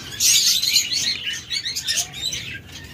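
Many caged birds, among them spotted doves, budgerigars, lovebirds and cockatiels, keep up a busy, overlapping chirping. Bright twitters rise and fall in close bursts, with occasional wing flutters and a faint lower call.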